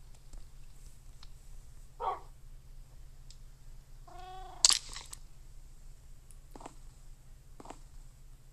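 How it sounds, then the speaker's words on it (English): Cats in the Minecraft video game give a few short, sharp meows spread across a quiet stretch, one louder than the rest, over a low steady hum. "we are gonna need more fish for the cats"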